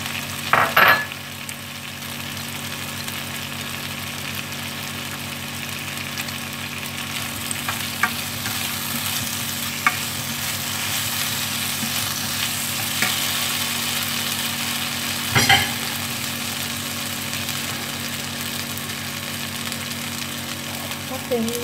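Potatoes stir-fried with garlic in a pan give a continuous loud sizzle, broken by a few scrapes and knocks of stirring, with no voices.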